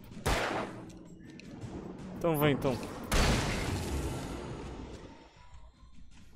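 Gunshots fired at an enemy in the video game Alan Wake: a few loud, sharp bangs in quick succession, each trailing off, mixed with someone talking and other game noises.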